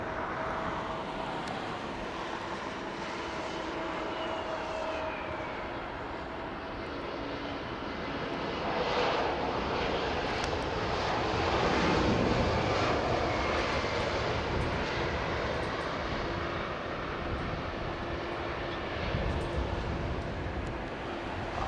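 A Turkish Airlines jet at London Heathrow Airport gives a steady, moderately distant engine roar that swells slightly in the middle and holds under broadband rumble, with no talk.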